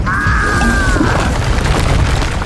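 A fiery spell blast in the Hogwarts Legacy video game bursts out with a whooshing, tonal swell that fades into a dense, steady rumble, loud and close throughout.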